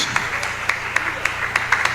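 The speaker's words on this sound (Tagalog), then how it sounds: "Isang malakas na palakpak para sa ating dakilang Diyos." A church congregation at an anniversary service in Bangar, La Union claps in sharp, spaced beats roughly every quarter second, heard under a continuous speaking voice.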